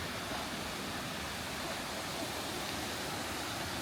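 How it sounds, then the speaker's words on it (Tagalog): Waterfall at Cat Cat Village in Sapa, Vietnam, roaring as a steady, loud, broadband rush of falling water with no breaks, close by and filling the whole scene. "Yung maingay guys, yan na yung falls."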